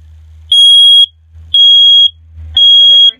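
Three loud, piercing electronic beeps from a smoke alarm being tested inside an r-pod camping trailer, evenly spaced about a second apart, very close, with a low hum in between.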